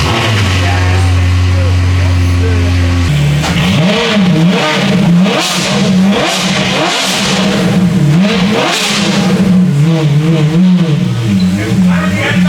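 Flood-damaged McLaren P1 engine cranking with a steady low hum, then catching and revving repeatedly in loud rising and falling surges up close, voices mixed in.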